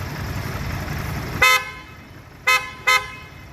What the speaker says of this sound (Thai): แตรตัวนี้เป็นแตรเปียเปลี่ยนให้เรียบร้อยแล้วนะครับ